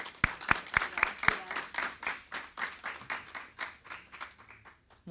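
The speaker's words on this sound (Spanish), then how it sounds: "Un aplauso para ella." An audience at a book presentation applauds the author. A few loud, close claps open the applause, then it settles into a steady patter that gradually thins out and fades.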